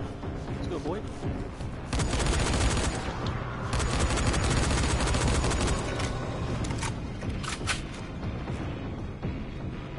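Loud, sustained bursts of automatic gunfire in a video game, rapid rattling fire that continues through most of the stretch, with a player's voice talking over it.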